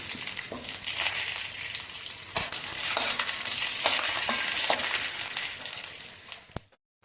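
Urad dal (split black gram) frying in hot oil alongside chana dal, giving a loud, steady sizzle with scraping stirs and light clinks that cuts off abruptly just before the end.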